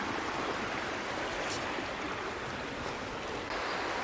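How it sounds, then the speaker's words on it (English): The Scantic River runs swiftly around a fallen dam, giving a steady close wash of rushing water with a few brief splashy bursts, continuous and alone. "And now the river's running swiftly around it."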